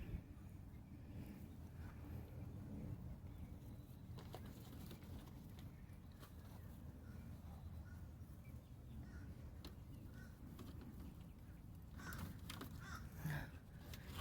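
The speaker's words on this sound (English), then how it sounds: "You hear the crows? They're so loud this year." Crows caw outdoors in a side yard, faint and distant, with scattered calls rising over a low, continuous rumbling background, several louder caws clustering near the end.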